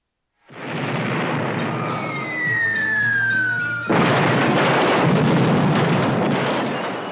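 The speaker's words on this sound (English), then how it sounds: "Miniature explosions is an effects man's nightmare" A miniature explosion film effect: a heavy rumbling blast with a descending whistle, then a sudden louder burst that rolls into a sustained roar of debris and crackle.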